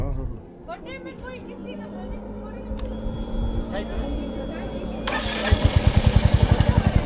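A motorcycle near Chicham in Himachal idles and then revs, its engine pulsing rapidly and loudly toward the end, while people talk over it.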